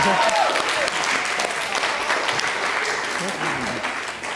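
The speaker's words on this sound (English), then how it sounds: "Please give him also applause." Audience applause at a speaker event, a dense, loud wash of clapping from a crowd with a few voices and cheers mixed in, continuing steadily throughout.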